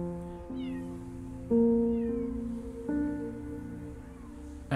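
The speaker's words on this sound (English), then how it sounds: "this one will meow at absolutely anything that moves" A cat meows repeatedly in the Copycat video game, several clear, fairly loud calls spaced a second or so apart over a low, steady background hum, with no talking.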